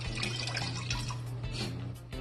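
Water poured from a tap into a pot over potatoes and onion, a steady close splashing rush with a low hum underneath.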